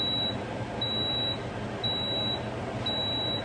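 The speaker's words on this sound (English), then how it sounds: "It beeped." A kitchen appliance beeps four times in short, evenly spaced high electronic tones, clear and close over a steady low background hum, with no talking.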